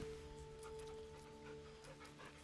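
Scratch, a dog in Baldur's Gate 3, makes soft panting and whimpering yips, very faint against a steady humming game music bed.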